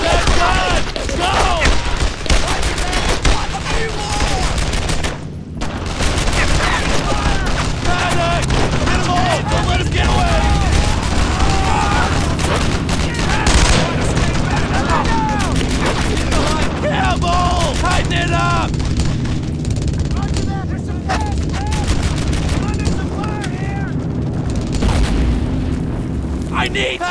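Dense gunfire and heavy explosions from the WWII shooter Brothers in Arms: Earned in Blood, with continuous loud booms and rattling shots filling the whole stretch while soldiers shout commands over the battle.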